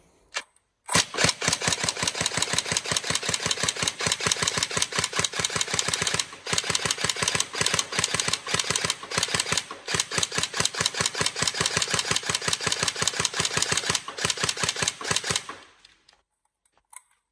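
A semi-automatic gun fires a long, fast string of sharp shots, each trigger pull cracking out in quick, nearly even succession with only a couple of brief pauses, loud and close, ending abruptly.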